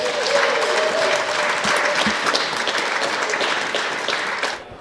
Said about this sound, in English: let's give Joy a big round of applause